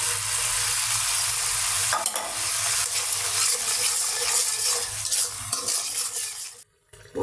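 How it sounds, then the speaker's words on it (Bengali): Turmeric and chili powder sautéing for a puti fish curry, with steady sizzling and stirring scrapes close up over several seconds before a short drop to near silence at the end. "ভালো করে কষিয়ে নেব মশলাটা"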